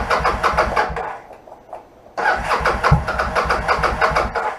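A used motorcycle engine with the choke on cranks and tries to catch, running rough and strong for a couple of seconds, dropping nearly to a stall, then firing back up to a steady loud idle.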